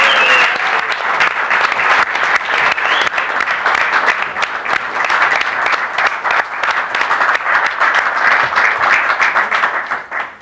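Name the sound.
studio audience applause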